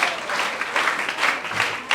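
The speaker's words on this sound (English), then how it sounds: "Please, let's give her a round of applause." A room full of people clapping steadily, a dense patter of applause throughout.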